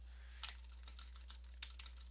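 Brief, soft clatter of typing on a computer keyboard, a handful of quick keystrokes under a steady low hum.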